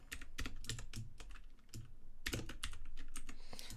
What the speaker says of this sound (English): you can hear I have a very clackety keyboard today.